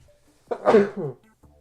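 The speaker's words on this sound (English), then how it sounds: "I've been sneezing like crazy." A single short, breathy burst like a sneeze or cough, close and fairly loud, followed by silence.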